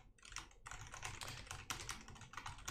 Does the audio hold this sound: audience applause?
no